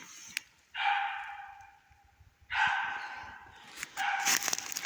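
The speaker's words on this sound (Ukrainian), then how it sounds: "Пес підтверджує." A dog barks in snowy autumn woods, a few drawn-out barks and yips spaced apart at moderate distance, with no talking.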